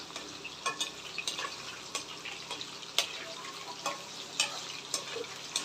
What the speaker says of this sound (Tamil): இப்போ இந்த சிக்கனை நம்ம பொறிச்சிட்டு பார்க்கலாம்